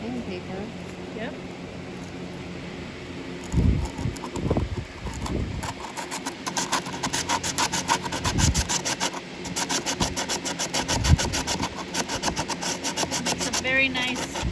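Sandpaper wrapped around a cedar branch rubs back and forth across a wooden crate in rhythmic close strokes, the scraping growing denser after the first few seconds, with people talking over it.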